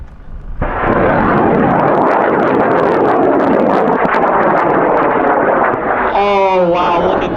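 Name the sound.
high power rocket motor ignition and launch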